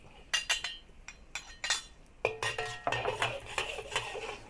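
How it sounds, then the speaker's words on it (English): Garlic sautéing in a pan over low heat for a lettuce and fermented tofu stir-fry, mostly rapid metal clinks and scrapes of a utensil against the pan, close and fairly brisk, with faint frying underneath. "and saute the garlic"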